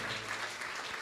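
A church congregation applauds at a worship service, a dense, steady patter of many hands clapping close by for a brief moment with no voices over it.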